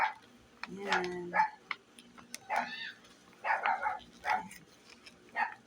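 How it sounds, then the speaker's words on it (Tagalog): A dog outside barks and yips in several short bursts at a distance, scattered between quieter moments, with faint voices and light ticking mixed in. "Sino yung tumatahol te?"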